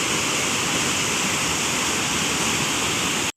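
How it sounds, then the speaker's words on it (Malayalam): Rainwater rushing away during a monsoon downpour near a house, a steady, loud, unbroken wash of flowing water with no voices over it. "അതിനുശേഷം വെള്ളം ഈ ഒരു ഭാഗത്തേക്കാണ് ഒഴുകി പോകുന്നത്."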